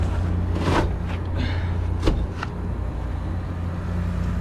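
A PTAC air conditioner compressor hums low and steady beside the indoor fan blower's whooshing airflow, with a few clicks and rattles from the unit along the way.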